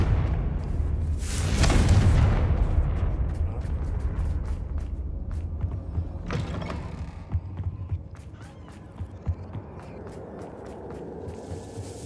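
In a Hogwarts Legacy fight, Confringo spells burst in a loud rushing explosion, then a second, softer blast follows, amid scattered clicks, creaks and footsteps.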